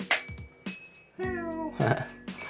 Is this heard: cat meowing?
yes